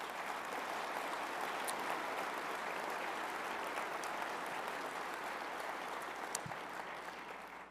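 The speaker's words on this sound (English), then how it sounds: "how about a round of applause for these guys?" A conference audience at a Bismarck event center applauding oil company CEOs after a fireside chat, a dense, sustained wash of clapping from a large crowd that holds steady and fades slightly at the end.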